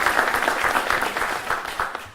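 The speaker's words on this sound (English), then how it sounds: "I'd like a round of applause for the Delta folks as well" Brief audience applause at a valedictorian ceremony honoring airline staff, a dense burst of clapping from a crowd lasting about two seconds.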